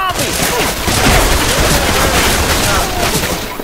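Dense, loud bursts of rapid gunfire from shooting a zombie in Left 4 Dead 2, continuous and close throughout.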